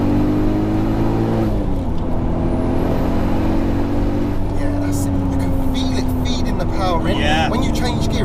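A turbocharged 462bhp VW Golf R32 accelerating hard, its engine note climbing and dropping through gear changes, with people talking over it from inside the car.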